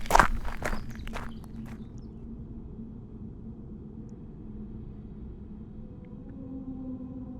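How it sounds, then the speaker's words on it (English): Faint footsteps walking through quiet woods at night, soft and distant, a few louder steps at the start fading into a steady low rumble of background ambience. "it's even said that you can still hear the faint patter of John's footsteps"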